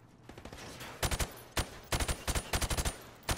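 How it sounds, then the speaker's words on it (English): Gunfire in Modern Warfare Remastered as targets are shot through plywood: loud, close bursts of rapid shots, a few single cracks and then quick volleys, with no talk over them. "I want you to shoot the targets through the wood."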